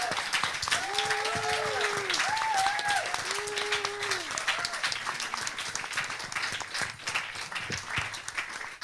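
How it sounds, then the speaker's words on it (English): Audience applause for a panel of women leaders at a gathering in Bali, dense clapping and cheering that holds steady, with a few raised voices and whoops rising over it before slowly thinning out. "give a huge round of applause for our panelists"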